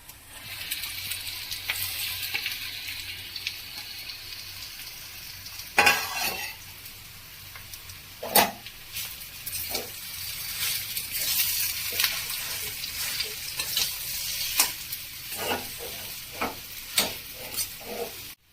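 Browned onions sizzling in a pan with mashed potato being added, a steady fry hiss under repeated sharp scrapes and clinks of a spoon against the pan, louder bursts of stirring near the middle and toward the end.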